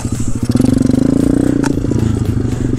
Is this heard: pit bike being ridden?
yes